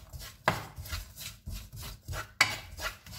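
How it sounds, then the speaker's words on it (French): Onions being stirred into a spice mixture in a pan make repeated scraping and rubbing strokes of a utensil against the pan, in a steady rhythm with sharper knocks near 0.5 and 2.4 seconds. "On mélange bien."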